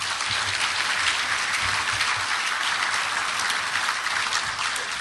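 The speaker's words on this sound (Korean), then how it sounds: "박수를 부탁드립니다" A large audience applauding steadily at a 2012 commemoration ceremony for the October 4 inter-Korean summit declaration, a dense continuous wash of clapping with no voices over it.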